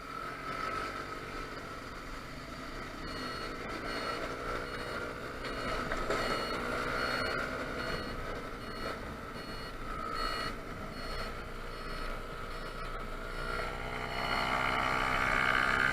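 Faint reversing beeps from roadworks vehicles pulse at a distance, heard over the steady engine drone and wind rush of a Honda Zoomer scooter riding along the road toward the works.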